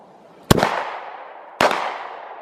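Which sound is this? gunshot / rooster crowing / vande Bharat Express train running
gunshot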